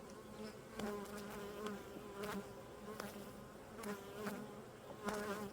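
Honey bees buzz steadily at close range around a hive during a goldenrod nectar flow, a dense droning hum with individual bees passing near.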